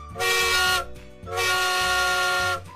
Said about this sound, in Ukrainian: Звучить гудок, наш поїзд вирушає в дорогу.